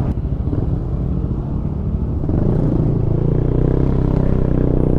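A Kymco Exciting S400 scooter rides along a road, its steady engine rumble and wind noise droning continuously and loudly up close, growing slightly stronger midway.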